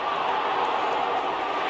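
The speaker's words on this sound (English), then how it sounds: "There's a buzz, a real buzz coming from the stands." Virtual cricket stadium crowd in the video game Cricket 26 gives a steady, hissing buzz from the stands, constant and moderately loud with no clear cheers.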